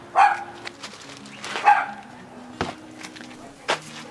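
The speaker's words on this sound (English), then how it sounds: "I really hate yappy dogs." A neighbor's small, yappy dog lets out four sharp, spaced barks, fairly close and loud against a quiet room.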